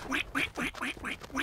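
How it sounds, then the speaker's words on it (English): Animated duck quacking in a fantasy adventure, six evenly spaced nasal quacks close and clear, with no other sound around them. "Duck."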